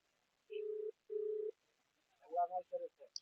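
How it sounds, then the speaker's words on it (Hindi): Phone call being placed: two even ringback tones pulse in sequence, followed by a short burst of a voice answering at the far end of the line, all quiet and thin. "मैं फोन लगा रहा हूं"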